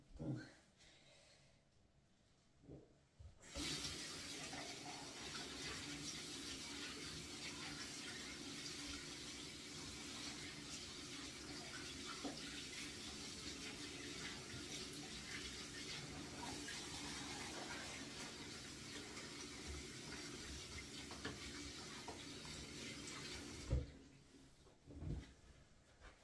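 Tap water runs steadily while hair is rinsed, a continuous hiss and splash lasting about twenty seconds, fairly quiet and close, beginning and ending abruptly with a few knocks at the edges.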